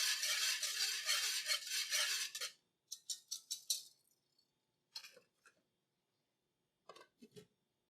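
Veggie gumbo being stirred in a pot: a steady run of dense scraping for about two and a half seconds, followed by short separate scrapes and knocks with pauses between them, fairly close and with no one talking.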